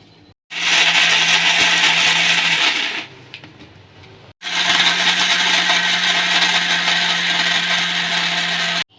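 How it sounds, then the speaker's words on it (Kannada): A mixer grinder grinds sugar, roasted gram and coconut in two loud, close bursts, a harsh rattling whir running for a few seconds, then a brief pause, then a longer second run. "ಎರಡು ಸಲ ರುಬ್ಬಬೇಕು."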